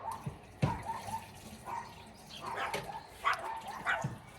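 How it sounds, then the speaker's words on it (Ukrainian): Dogs bark in scattered short bursts at a distance, faint and irregular against a quiet background, at a dacha after spotting a grey cat. "А знаєте, що вони гавкають?"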